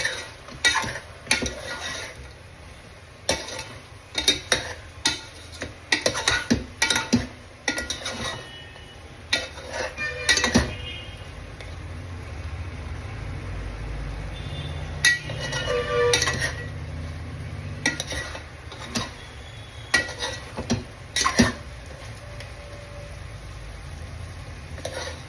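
Green curry mixture for a chicken curry stirred in a frying pan, with bursts of rapid metal-on-pan scraping and clinks, then quieter stretches of low frying hiss, close and fairly loud.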